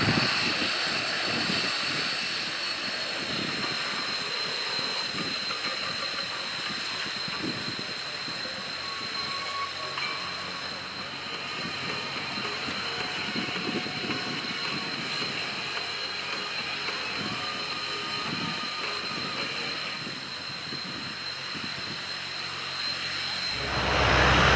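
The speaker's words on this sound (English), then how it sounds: "the French Navy Atlantique ATL2 getting airborne to go off and hold" French Navy Breguet Atlantique ATL2 turboprop taking off at an airshow, a loud, continuous turbine whine and propeller roar sustained throughout, swelling slightly at the end.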